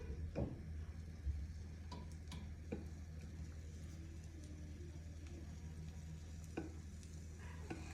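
Quick snacks fry in a hot pan and are turned over, giving a steady, close sizzle with occasional scraping clicks and knocks from the utensil against the pan.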